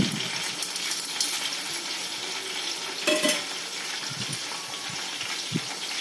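Sliced onions, tomatoes and rock salt fry in hot oil for chicken biryani, a steady loud close sizzle with stirring scrapes and a few brief knocks of the utensil.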